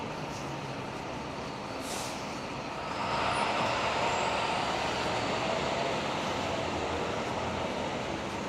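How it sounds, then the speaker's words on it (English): Pepsi delivery truck rolling along a busy New York City street, a broad rumbling roar that swells after a few seconds and holds fairly near, with no voices. "I see two Pepsi trucks right now, right in front"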